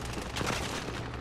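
Rapid gunfire in the Warzone shooter game, a dense continuous burst of shots loud and close throughout, no talk.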